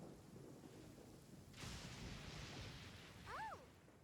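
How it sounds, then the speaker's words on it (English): Steady rain hiss of a video game thunderstorm with a sudden swell of rumbling thunder midway, followed by a brief rising-and-falling tonal whoosh near the end. "Torrential downpour."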